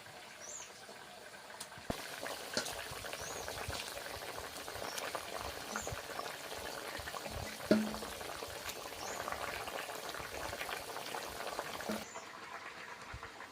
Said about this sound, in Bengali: তরকারি ফুটছে